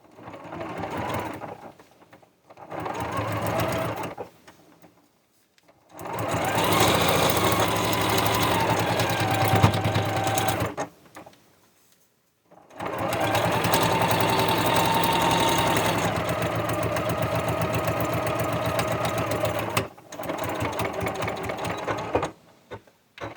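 A home sewing machine stitches a quilt seam for a pieced iris block, running in steady sustained bursts with brief pauses between them, close and fairly loud with no talking.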